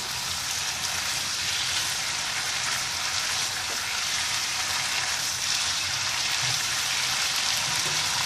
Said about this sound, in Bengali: এখন আরেকটু ভালো করে আবার নাড়াচাড়া দিয়ে নিব